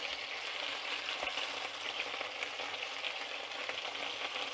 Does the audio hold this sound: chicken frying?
yes